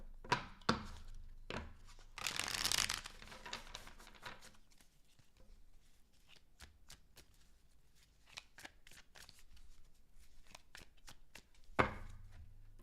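Tarot cards being shuffled by hand, with quick riffling bursts, a louder extended riffle near the start and another at the end, and scattered soft taps and slides of the deck in between; close and fairly quiet, with no talking.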